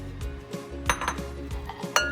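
Pork ear and tofu mixed in a bowl, giving repeated light clinks and scrapes of utensil against dish in an irregular rhythm, close and fairly clear with no talking.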